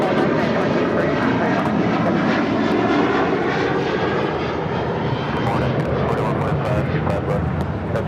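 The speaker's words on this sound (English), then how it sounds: "This is Sun Country Airlines 8501 taking off to Kailua, Kona on this 737-800" A Sun Country Airlines Boeing 737-800 roars down the runway on takeoff at LAX, a loud, steady broadband jet rumble holding strong for the whole stretch, with a voice speaking over it.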